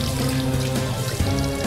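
Hot water runs from a restaurant sink tap as a steady, close, continuous rush that holds without break and stands alone with no talk over it.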